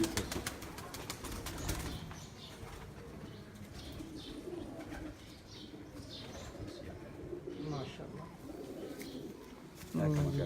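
Pigeons kept on a rooftop coo and flutter nearby, with soft calls and bursts of wing flapping, while people talk over them.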